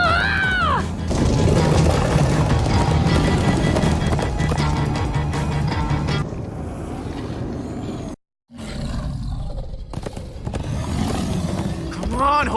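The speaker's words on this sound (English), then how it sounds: "Come on, horses!" Galloping horses clip-clop rapidly and neigh in Minecraft: Story Mode, layered with game music and roaring effects, while characters shout over the action, with a brief dropout midway.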